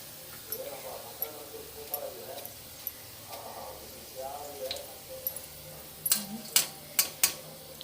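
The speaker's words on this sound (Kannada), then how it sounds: "ಒಂದು ಸೈಡಲ್ಲಿ ಈರುಳ್ಳಿ ಕೂಡ ಫ್ರೈ ಆಗ್ತಾ ಉಂಟು." Onions fry in a pan beside bitter gourd fry, a soft steady sizzle under a speaking voice, with utensil taps and a few sharp metallic clinks of pan and spoon toward the end.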